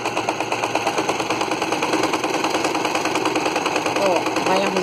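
Sewing machine running a safety seam on the outer base of a fabric necessaire, a steady rapid mechanical stitching rhythm close by with a voice talking over it.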